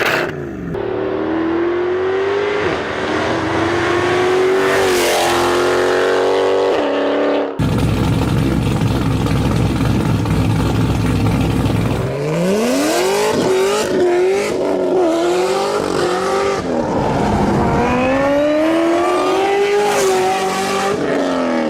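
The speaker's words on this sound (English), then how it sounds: "people think that a W204 C63 sound better than a cammed LS" A Mercedes W204 C63 and a car with a cammed LS engine roar through hard revs and accelerations, loud and close, with rising and falling engine pitch, a lumpy idle and some tire squeal, and no talk.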